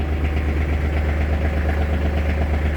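An ISEKI GEAS27 mini tractor with a cab idles close by, a steady low rumbling chug with even, rapid engine pulses and no voices.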